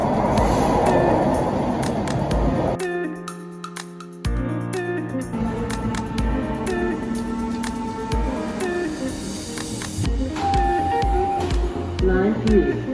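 A GO commuter train moves along the platform at Kennedy Station, with rumbling wheels, shifting tonal hums and squeals from the rail cars, and voices talking over the noise.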